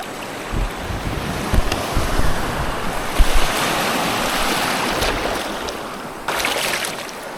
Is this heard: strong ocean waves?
yes